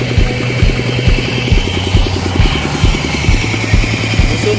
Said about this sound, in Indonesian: pawai traktor dalam rangka ruatan bumi desa Sudarjaya